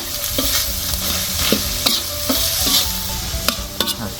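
Chicken bones stir-fried with oyster sauce in a spicy stir-fry are stirred in a hot pan, with a steady sizzle broken by repeated sharp scraping clicks of the utensil, close and fairly loud.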